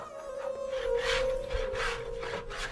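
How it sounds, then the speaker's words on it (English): Rough rhythmic rasping of a tool carving out the wooden sound box of a dilruba, repeated strokes swelling and fading, with a steady tone humming underneath. "The actual transformation begins with carving out the sound box."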